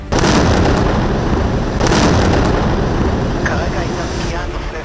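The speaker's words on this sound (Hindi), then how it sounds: "नेतन्याहू की फौज रॉकेट और मिसाइल भी बरसा रही है।" Heavy bombardment of rockets and missiles during the Israel–Hamas war in Gaza roars as a dense, continuous wall of blasts and rumble, very loud and close, with sharper bursts around two seconds in.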